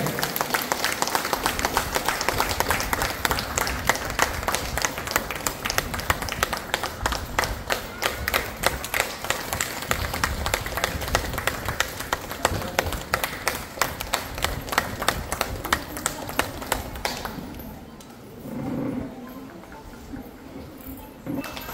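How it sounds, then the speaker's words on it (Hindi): Sustained, loud clapping from a gathered crowd welcomes a guest at an office opening ceremony in Ramghar, steady dense applause for most of the stretch before tapering off, with a brief murmur of voices near the end. "जोरदार ताली से सर का स्वागत करें।"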